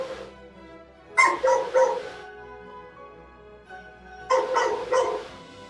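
Two bursts of dogs barking and yipping at a dog rescue shelter in Cities: Skylines II, each a quick cluster of several barks separated by a quiet pause, with a soft musical hum underneath.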